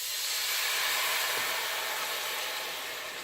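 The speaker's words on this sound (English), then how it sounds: "So I'm going to add this stock." Stock poured into a pan of simmering gravy for meatballs gives a steady, close sizzling hiss that fills the whole moment, easing slightly toward the end, with no talking.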